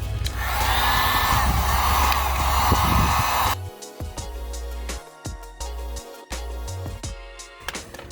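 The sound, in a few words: heat gun heating car fender for fender roll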